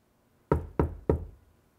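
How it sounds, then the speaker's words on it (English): Three knocks on a Subaru car door panel lined with Dynamat damping material, evenly spaced and dull, each with a short deadened decay, close up and alone in quiet. "And here's what it sounds like after Dynamat."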